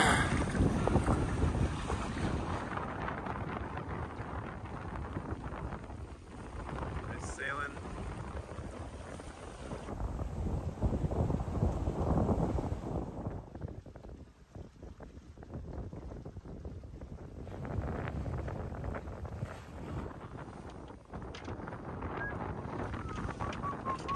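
A sailboat under way in Sweden, with steady wind rushing across the microphone and water washing along the hull throughout, a continuous broad roar that swells and eases.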